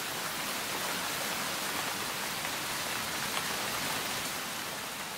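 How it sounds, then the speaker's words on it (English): Rain pours on the hot granite summit of Mount Kinabalu in Borneo, giving a steady, even hiss of dense drops that carries on unbroken at moderate loudness, with no voices. "When the first rain strikes the hot granite, it's driven off as steam."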